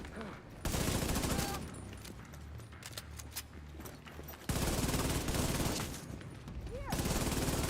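Gunfire in The Division 2's Descent mode, with dense sustained bursts and volleys of shots that continue with only short lulls, loud and constant.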